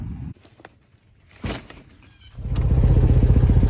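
Volkswagen car setting off on a drive: quiet cabin noise and a door-like thump at first, then the engine rises into a loud, steady, close drone that continues to the end.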